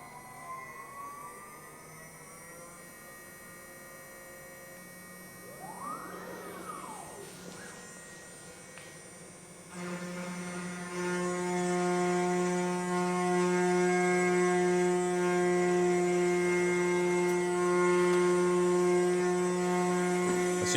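Large DIY CNC machine making its first cut, a quiet whirring drive with a brief rising sweep, then steady tonal humming and whining that grow louder and hold, close by.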